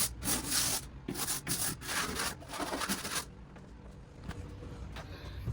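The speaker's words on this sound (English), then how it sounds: "I still had to scrub some of the areas because they were just a little too stained" A rag scrubs heavily stained grout in quick, repeated back-and-forth rubbing strokes, close and fairly loud for a few seconds, then gives way to fainter, sparser scraping touches.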